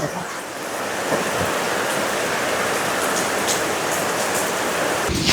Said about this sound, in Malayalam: പെരുമഴ എന്ന് പറഞ്ഞാൽ പെരുമഴ